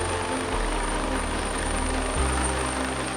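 An air ambulance helicopter flies on a rescue run to the Alfred Hospital, its engine and rotors giving a steady, continuous drone with a deep low rumble that holds at one level and shifts pitch slightly partway through.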